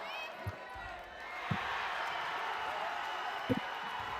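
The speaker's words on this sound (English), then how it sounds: "getting the crowd really hyped up" Arena crowd at a men's NCAA gymnastics meet cheering steadily after a stuck high bar dismount, a broad sustained roar with a few sharp thuds and knocks.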